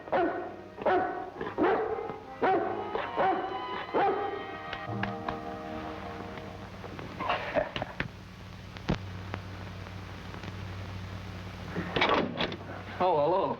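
A large Great Dane barks several times in a row, loud and close, with a deep booming tone, then falls quiet before a few more barks come near the end.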